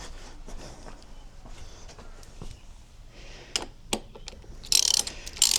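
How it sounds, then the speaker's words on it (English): A ratchet wrench loosens the fuel tank bolts on a Suzuki DRZ400 motorcycle, giving quick, close clicking bursts of the pawl with small metallic knocks and a sharper flurry near the end. "I'm just going to loosen the fuel tank"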